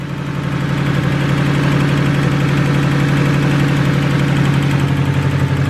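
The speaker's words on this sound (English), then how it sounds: "it sounds like there's a header leak right in here somewhere." Close-up rumble of an idling Honda Del Sol engine with a rapid ticking and chuffing from a leaking exhaust header, steady throughout.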